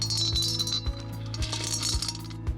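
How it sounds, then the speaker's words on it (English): Large rocks set down one by one into a glass bowl while repotting an indoor plant, giving about five sharp, close clinks at a steady pace over a low steady hum. "First we're going to use these rocks, he kohatu. Be a bit careful"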